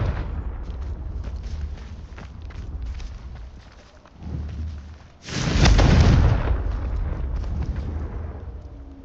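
A loud, close blast from a Confringo spell in Hogwarts Legacy roars up suddenly and rumbles on for several seconds after a smaller boom, above a steady game background.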